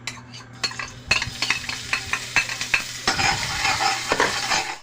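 Garlic sautéing in a pan for Filipino lumpiang togue crackles and sizzles up close, with repeated metal spatula scrapes and clinks keeping a busy stirring rhythm that grows denser toward the end, no voices.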